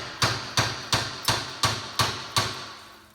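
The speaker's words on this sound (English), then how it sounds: "Hammer time!" Seven sharp metallic hammer strikes on a seized, rusted shackle bolt of a Toyota rear axle ring out at a steady, slightly uneven pace, each blow loud and close with a brief decay.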